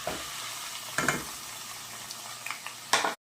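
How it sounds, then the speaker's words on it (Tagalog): Potatoes and carrots crackle and sizzle in hot cooking oil for menudo, a steady frying hiss broken by a few louder pops and utensil scrapes, and then it stops abruptly. "init na ang atong mantika. Ato na ning ilunod ang atong patatas o carrots."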